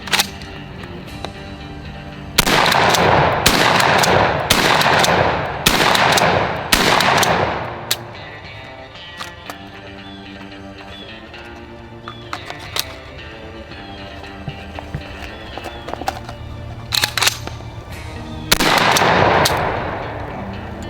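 Blackwater Sentry 12 shotgun fires rapid booming shots from its magazines, loud close blasts in two bursts with a pause of quieter handling clicks between.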